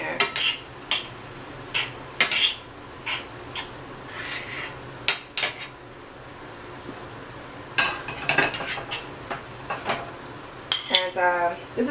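Spoon scraping and clinking in a pot as saltfish, tomatoes, vegetables and butter beans are folded together, with intermittent close metallic taps and knocks between quieter pauses.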